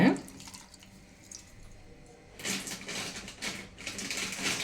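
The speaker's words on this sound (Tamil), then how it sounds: "இப்போ நம்ம கைகளால் கொஞ்சம் இந்த மாதிரி எல்லாம் ஒன்றும் செய்கிறேன் இந்த மாதிரி கரைச்சி விட்டுருங்க" Wet squelching and dripping as a tomato and tamarind mixture is squeezed and dissolved by hand in water for Chettinad tomato rasam. The sloshing comes close and moderately loud, growing busier in the second half.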